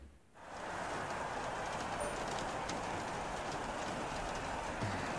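In the F1 2016 racing game at the British Grand Prix, steady rain starts after a brief quiet moment and continues as a soft, even hiss of falling water throughout.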